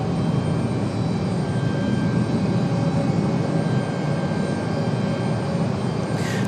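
Jet airliner engines at Raleigh Durham International Airport, a steady broad roar held at strong level for several seconds, with a faint rising whine near the end.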